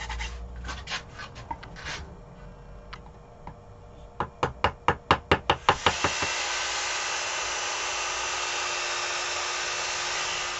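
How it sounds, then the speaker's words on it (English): A small wooden carver's mallet strikes a walnut bowl on a lathe, about nine sharp, evenly spaced knocks in a quick run, close and clear, after some light handling noises and before a steady whir of the lathe takes over. "Little carver's mallet."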